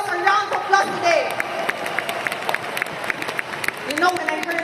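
Audience applause at a leadership training seminar, with many hands clapping steadily and closely packed for several seconds. A few raised voices and faint cheers rise over the clapping.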